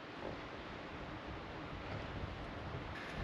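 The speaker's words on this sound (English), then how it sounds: "Yeah, it's really windy." Strong wind roars across an outdoor barn site, a loud, broad, steady rush buffeting the microphone throughout with no voices.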